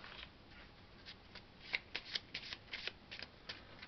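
Playing cards riffled and shuffled on a board game board during setup of the Direwild game: soft, close, papery riffling in quick repeated bursts, with no talking.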